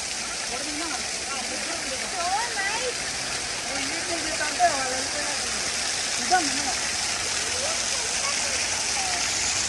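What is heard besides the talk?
water dripping and flowing from a cave at Turner Falls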